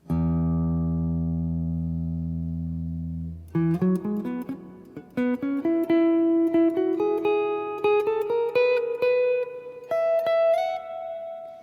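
A sustained electric guitar note rings alone, then a rapid solo phrase of picked and sliding notes from a solo (3/21/90) climbs steadily higher, loud and close.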